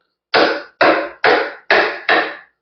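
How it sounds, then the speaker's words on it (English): Five evenly spaced sharp strikes of a chisel being driven into wood to cut a convex curve by hand, each a loud close knock with a short decay, alone without talk. "So we're going to come in with a chisel."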